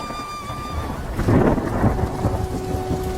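Steady rain with a rumble of thunder swelling near the middle, from a cartoon about a rainy day in a village, with faint tonal background music throughout.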